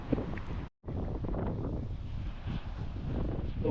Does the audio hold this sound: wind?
yes